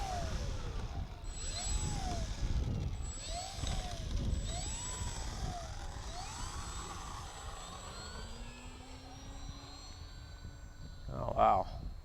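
A ParkZone Sukhoi SU-29MM RC airplane's electric motor whines and rises in pitch as it taxis out, with wavering tones under people talking nearby, and a brief louder burst near the end.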